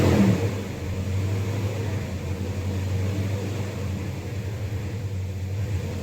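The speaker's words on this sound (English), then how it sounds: "I do have it cranked up now. I had to give it a little gas there to get it to run." The engine of a 1999 Dodge Ram 1500 runs with a steady, low rumbling hum after a brief rev at the start, close and constant with no talking.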